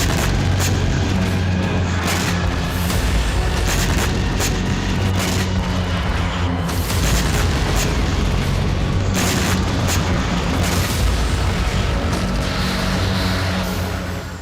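Heavy booms and blasts from Russian strikes on Ukrainian weapons depots on the eastern front, a continuous loud rumbling roar with repeated sharp impacts throughout, no talking.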